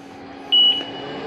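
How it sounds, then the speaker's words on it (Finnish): A barn manure pusher robot, switched to manual drive, gives a short single electronic beep as it passes a floor magnet, heard over steady machine hum and background barn noise. "niin se piippaa aina tuommoisen magneetin kohdalla"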